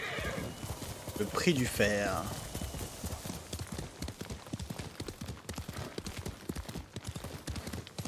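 A horse in the Ghost of Tsushima video game neighs loudly near the start, then its hooves clip-clop in a steady rhythm that continues throughout, with someone talking over it.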